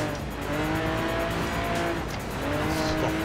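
Tires on a Lamborghini Aventador squeal steadily through a drift on ice in Forza Horizon 4, a high engine roar running underneath, loud and continuous with pitch rising and falling as the car slides.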